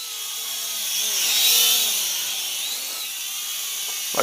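An XK X300 FPV quadcopter drone with brushed motors flying, a thin high-pitched whine that swells and fades as it passes, fairly close and steady with no talking.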